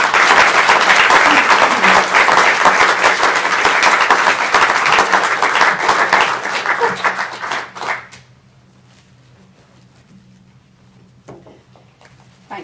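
A lecture-hall audience applauds to welcome Professor Kath Woods-Townsend to an inaugural lecture, producing dense sustained clapping for about eight seconds that then fades, leaving a quiet room with faint rustling.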